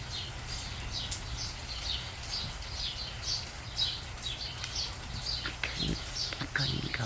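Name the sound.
songbirds singing in a bush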